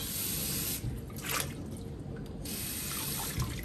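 Tap water runs steadily into a sink as a Römertopf clay pot is rinsed clean: a continuous, close splashing rush that thins briefly in the middle, with no voices.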